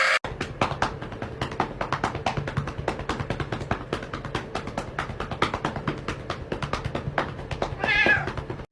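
A cat meows repeatedly in short, close, fairly loud calls spread across the whole stretch, ending in a longer drawn-out yowl, over a steady low background hum.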